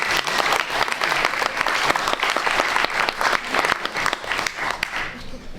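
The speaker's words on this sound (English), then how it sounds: "let's give him a round of applause." A round of applause from an audience at a live presentation, dense and continuous clapping with sharp individual claps standing out, tapering slightly toward the end.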